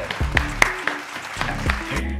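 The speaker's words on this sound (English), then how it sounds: "Let's clap." One person clapping hands several times in an uneven rhythm, close and fairly loud, over background music and faint voices.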